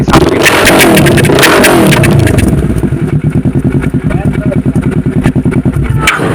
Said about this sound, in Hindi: इसमें लगा हुआ है फुल सिस्टम एग्जॉस्ट। एक्चुअल में गाइस ये बहुत लाउड है, बहुत हार्ड फाड़ साउंड है।